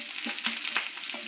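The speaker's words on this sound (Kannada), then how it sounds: "ಇವನ್ನ ಚೆನ್ನಾಗಿ ಫ್ರೈ ಮಾಡಬೇಕು" Green chillies fry with garlic, cumin, curry leaves and tamarind for a chutney, giving a steady close sizzle with a few light stirring scrapes in the pan.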